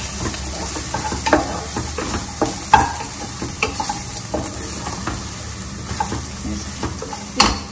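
Coconut rice frying in a pan with grated coconut, a soft continuous sizzle broken by repeated scraping and clinking stirring strokes of a utensil against the pan, close and moderately loud.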